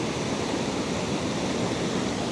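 Steady broadband rushing water of a stream crossing, like water flowing over rocks nearby, constant and unbroken throughout.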